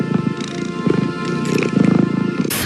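Cat sounds from a TV promo for a show featuring a heroic cat, a run of rumbling purr-like growls and snarls pulsing several times over a couple of seconds, loud and close, with other noise layered in.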